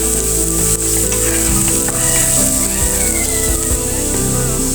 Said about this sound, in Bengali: বাদাম ভর্তার জন্য সব কিছু ভাজা হয়ে গেছে।